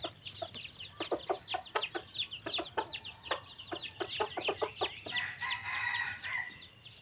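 Chickens cluck in quick, repeated bursts at close range, with a busier stretch of higher, overlapping calls toward the end.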